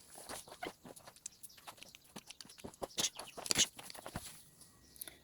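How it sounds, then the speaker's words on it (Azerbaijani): Chickens scurrying in to feed on a village farmyard in Quba, with soft pecking, scratching and clucking as the birds crowd around food, plus some brief sharper bird calls in between. "Toyuqlar görüb bunlar burada yer gəlirlər."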